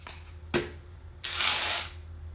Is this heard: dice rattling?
yes